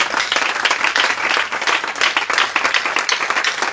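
A church congregation at an evening prayer and fasting service breaks into loud, continuous applause, with dense clapping from many hands filling the room.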